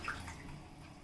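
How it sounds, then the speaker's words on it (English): Water, almost a cup, is poured into a cooking pot while making pongal, a soft steady trickle and splash that is faint and close, with no talking. "So now here I will be adding another almost 1 cup of water."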